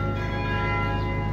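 Carillon bells ringing from a church tower, played in sustained overlapping tones that hum steadily and fairly loud throughout, with no voices.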